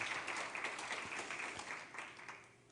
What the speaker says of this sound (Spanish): ¿Puedes dar un aplauso al Señor por ello?